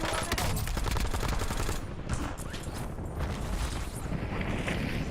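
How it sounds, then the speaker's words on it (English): Enemy precision airstrike in the video game Warzone, dense rapid blasts and crackling explosions rolling continuously, loud and chaotic throughout. "Enemy precision airstrike."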